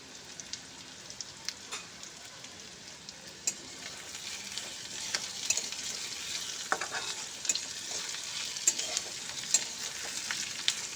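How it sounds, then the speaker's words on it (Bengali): Two medium chopped onions frying in a pan with potatoes for a ridge gourd and prawn curry, a soft continuous sizzle with scattered crackles and occasional stirring scrapes, close but fairly quiet, with no talking. "আমি এখানে দিয়ে দিলাম দুটো মাঝারি সাইজের পেঁয়াজ কুচি। তো পেঁয়াজটাকে দিয়ে আমি আবারও খুব লাল লাল করে ভেজে নেব।"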